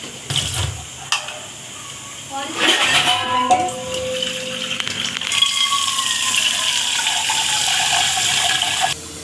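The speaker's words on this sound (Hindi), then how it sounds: "इसमें हमने दो गिलास के करीब पानी डाला है इसमें" About two glasses of water pour into an empty cooking pot for making idli, a splashing, filling stream that lasts several seconds, with a few clanks and a brief murmur of talk near the start.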